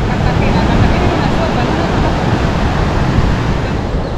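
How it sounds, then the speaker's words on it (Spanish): Steady broadband wash of ocean surf at a beach in Mexico, continuous and fairly loud, with wind buffeting the microphone throughout. "Ahí está la playa."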